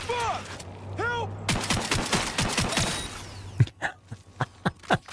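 Rapid bursts of gunfire in Cyberpunk 2077's Phantom Liberty expansion, a dense volley of sharp shots followed by several spaced, loud single shots, with brief voice-like sounds early on.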